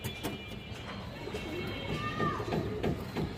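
Makra pigeons, an old breed, coo at a pigeon seller's stall, soft repeated coos close by beneath steady background noise and someone talking.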